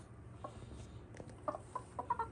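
Chickens being brought home make soft, faint clucks and short calls, several scattered bursts that grow a little busier toward the end over a quiet background.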